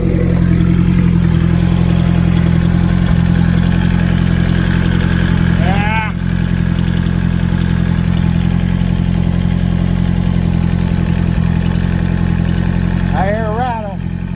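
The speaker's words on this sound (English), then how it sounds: "it sounds like the damn timing chain slapping" A Hyundai turbo daily driver engine idling with a steady low drone and a loose timing chain slapping and rattling, with two brief squeaky chirps rising above the continuous running sound.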